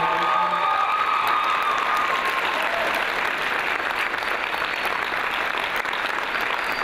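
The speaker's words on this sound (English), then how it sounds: "Please give one more round of applause for the parents up here and the coaches." A crowd at a school athletic signing ceremony applauding parents and coaches, dense sustained clapping, loud and continuous throughout, with faint cheering mixed in.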